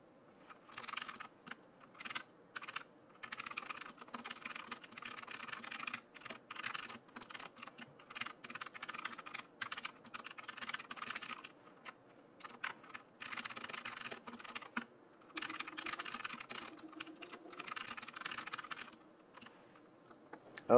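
A computer keyboard clatters steadily as JavaScript code is typed for a Shopify announcement bar, with quiet, close keystrokes in fast runs and occasional brief pauses, no talk.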